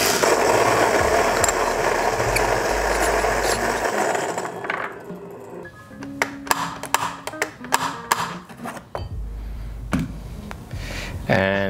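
A Fellow Ode filter coffee grinder runs with a loud, steady whirring grind for about four seconds, then gives way to rattling, tapping and clicking handling noises that continue close up.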